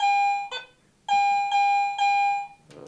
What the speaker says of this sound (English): typical Garrett bell tone of a good high conductive coin,